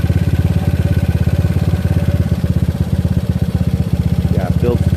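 GY6 scooter engine with a PWK 30mm carburetor running steadily at a rough, slightly uneven idle, a close, loud, rapid pulsing putter continuing throughout, with talk faintly underneath.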